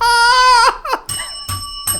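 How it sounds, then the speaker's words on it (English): A Bank of America "thanks" bell chimes as a loud, sustained ringing tone, followed by several shorter, fainter rings with brief pauses between them. "That damn Bank of America Thanks bell."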